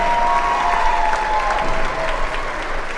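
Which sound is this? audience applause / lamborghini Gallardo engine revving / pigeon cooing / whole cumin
audience applause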